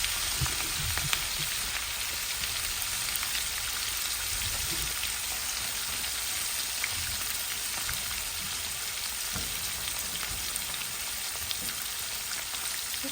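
Fish frying in a pan for stewed fish, a steady crackling sizzle with scattered pops that runs unbroken and evenly loud throughout, with no voices.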